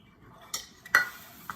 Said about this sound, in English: Mix it up a little. So all the flavors blend.